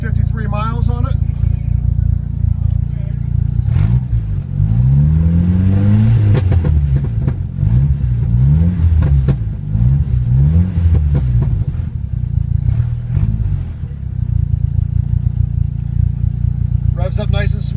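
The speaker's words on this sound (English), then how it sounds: "Revs up nice and smooth." The 2.5-liter four-cylinder engine of a 1993 Jeep Wrangler with 126,753 miles idles loudly up close, then revs up several times in smooth rising and falling sweeps before settling back to a steady idle.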